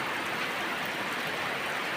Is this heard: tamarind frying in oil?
no